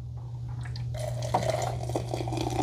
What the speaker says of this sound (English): we can just pour it out of that little pouring container, that little area